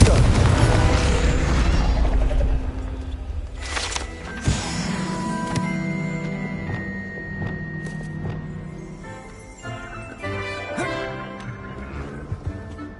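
A Confringo blasting spell goes off in Hogwarts Legacy with a loud, booming burst at the start, then a long crackling, rumbling decay and scattered magical pings and debris sounds trailing off.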